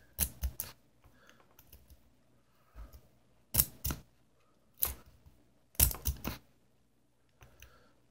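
Clicking and scraping of a lock pick raking the pins of a 5-pin lock, heard as close, sharp bursts of clicks in short clusters with pauses between them.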